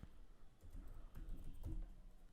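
Keys clatter on a desktop computer keyboard while entering text in a Google Sheets spreadsheet: a quick, uneven run of close, crisp clicks and taps, heard alone.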